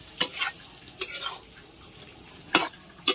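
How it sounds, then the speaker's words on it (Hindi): Pieces of chephua fish fry in a pan with spiced masala, a soft continuous sizzle broken by several sharp scrapes and clinks of a spoon stirring against the pan, close up. "मछली भून लेंगे थोड़ा देर।"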